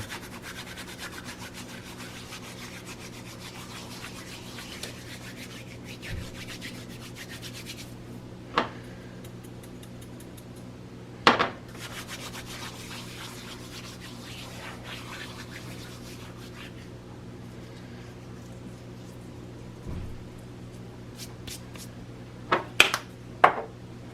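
Dried basil crumbled by hand for a gluten-free pizza, giving a faint, steady papery rustle and rubbing close by, with a few brief crisp crackles scattered through a long quiet stretch.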